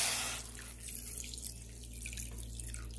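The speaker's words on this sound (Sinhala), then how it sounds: "වතුර ටික දාලා" Water runs from a tap into a pot of sugar to make sugar syrup for Sri Lankan muscat, a steady faint trickle and drip over a low hum, with no talk.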